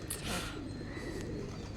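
Pigeons coo around an old mosque where rice has been scattered for them, a soft, steady murmur of calls in the open air beneath a noisy background.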